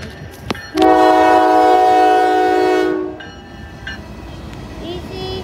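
A Norfolk Southern freight train led by locomotive NS 7565 sounds its horn in one long loud blast, then rumbles past with steady rail noise and faint clatter.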